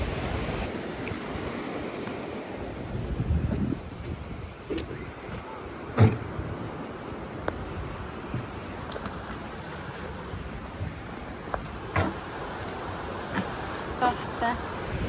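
Sea water washes in waves, a continuous broadband surf roar with gusty wind buffeting the microphone, occasional knocks and handling bumps, heard near and steady throughout.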